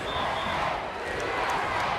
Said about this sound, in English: That's the chant of USA from the large crowd here in the arena